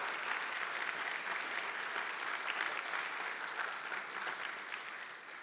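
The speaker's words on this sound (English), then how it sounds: "Let's clap our hands for that." An audience at a mayor's State of the City address claps for a balanced city budget, even and sustained applause from a sizeable crowd that fades slightly toward the end.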